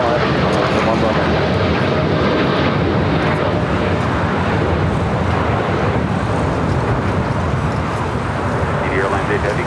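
An airliner bound for Paris departs LAX, its jet engines making a loud, steady broadband roar throughout.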